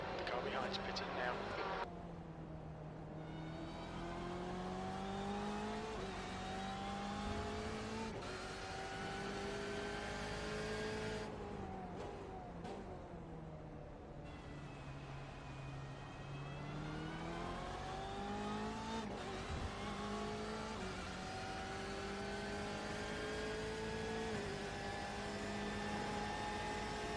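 Race car engines in the iRacing 24 hours of Daytona sim drone continuously and loudly, with steady revving pitch sweeps and gear changes, under occasional talk.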